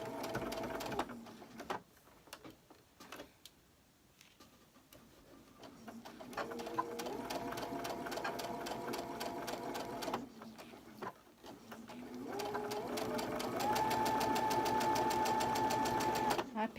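Sewing machine stitching a 1.5 inch quilt strip onto a barn block, running in bursts of rapid mechanical whirring with short pauses, close by, rising to a steadier, louder run near the end.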